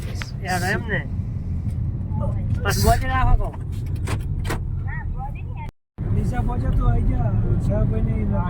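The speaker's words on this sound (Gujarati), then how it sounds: "ગાડી લઈને જઈએ છીએ" A car driving on a road toward an elevated bridge in Deesa, with a steady low engine and road rumble throughout and a brief dropout near the end, while several men chat loudly inside the vehicle.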